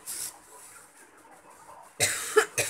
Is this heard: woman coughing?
yes